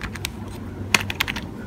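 Keys clicking on a cheap computer keyboard: a few sparse, sharp taps with one or two louder clacks, close up, with no talking.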